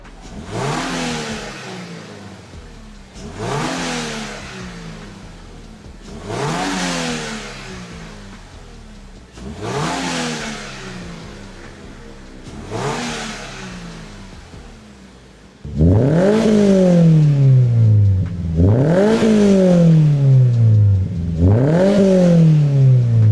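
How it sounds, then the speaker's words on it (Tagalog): A Subaru BRZ fitted with a Tomei Expreme 1:1 titanium catback exhaust and custom resonator revs repeatedly, each sharp climb falling back to idle; the last several blips are louder and more aggressive. "pakinggan na natin ngayon yung resulta nito at i-compare natin yung kaninang stock pa yung exhaust"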